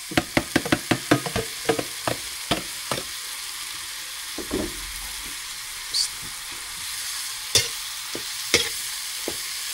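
Banana heart (saba blossom) dropped into a hot pan and sautéed, a burst of rapid sharp stirring knocks and scrapes at the start, then scattered spatula taps over a steady close sizzle.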